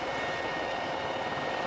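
Military helicopter with a door-mounted rifle rest, used for airborne sniper firing by a Korean special commando regiment; a steady, loud rotor and engine roar fills the cabin throughout, with no talking.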